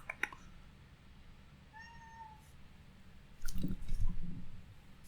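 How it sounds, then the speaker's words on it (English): A house cat meows in short, rising cries near a desk, the calls sliding upward over quiet room hiss, followed by a louder burst of low rustling and thumps close by. "Had a hard time reading it because my cat won't shut up."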